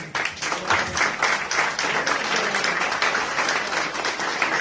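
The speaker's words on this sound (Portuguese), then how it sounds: "Aplauso para o homem." A group claps at a 68th birthday celebration, the applause close and fairly loud with distinct individual claps in a brisk, uneven rhythm.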